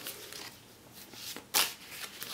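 Tarot cards shuffled by hand in brief, crisp riffling bursts, one sharp close flutter standing out above quieter soft shuffles.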